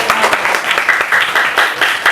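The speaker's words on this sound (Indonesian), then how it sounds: "Oke, itu beri tepuk tangan." Schoolchildren in a classroom clap for a classmate who has just recited a Quran surah, a brief burst of quick, uneven hand claps close by with a few individual claps standing out.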